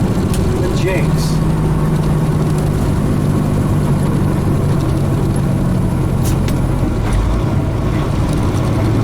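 A heavy truck with a 13-speed transmission rumbles along with its jake brake engaged, a loud continuous low droning engine roar that stays steady and close for the whole stretch, with no talking over it.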